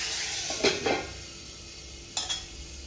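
Tomatoes and turkey berries are stirred in a pan, giving two close pairs of scraping strokes over a steady low hiss.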